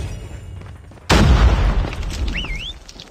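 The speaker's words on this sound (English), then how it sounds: "Watch out, flashbang." A flashbang grenade goes off in Call of Duty: Mobile frontline multiplayer, a sudden loud boom that erupts after a quiet second and rings on with dense, ringing noise, a faint whistling tone drifting through the tail.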